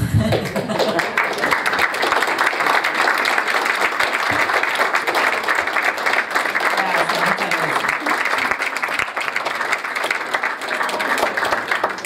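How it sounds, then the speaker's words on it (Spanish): Sustained audience applause at a talk by a journalist and co-author of a book, dense, steady clapping lasting about twelve seconds at constant loudness. "vamos a aplaudir"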